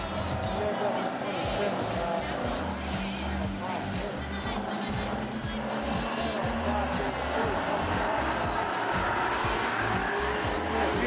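AMCA modified race cars thunder around the Rockhampton Speedway with continuous engine roar and occasional tyre squeal, under a commentator talking throughout.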